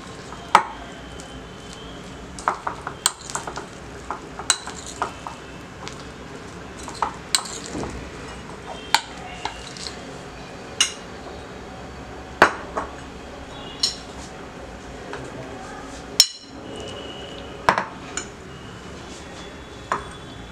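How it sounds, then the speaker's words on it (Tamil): Halved large mushrooms are stirred in a bowl to coat them, giving soft, scattered clinks and taps of a spoon against the bowl at an irregular pace, fairly quiet throughout. "இதை வந்து நல்லா வந்து கலக்கி கோட் பண்ணிக்கலாம்."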